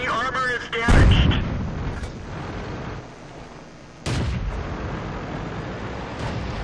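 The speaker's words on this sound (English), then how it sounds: "Got to keep on moving to avoid artillery fire." Artillery fire in the World of Tanks video game: heavy booming impacts, one strong blast early and another a few seconds later, over a rumbling battle background with a voice speaking.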